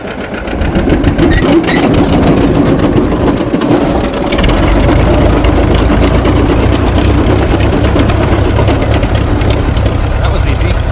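An International TD-6 crawler tractor engine is started in gas mode, its loud, rough, rapid chugging settling into a steady close-up idle that continues without pause.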